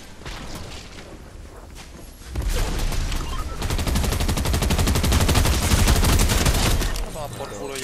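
Sustained bursts of enemy gunfire in a shooter video game, a steady rattling fusillade that grows louder and denser after the first couple of seconds and keeps going almost to the end, with talk in the background.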